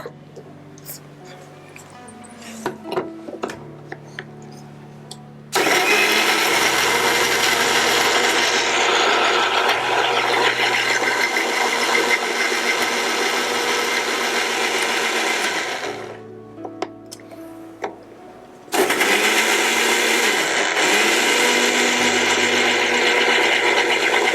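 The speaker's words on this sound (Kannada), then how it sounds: "ಈಗ ಇದು ಮಿಕ್ಸಿ ಜಾರ್ ಹಾಕ್ಕೊಳ್ಳೋಣ" A mixer grinder blends rose apple with lemon and water, its motor roaring loud and steady for several seconds, pausing briefly, then whirring again at full strength.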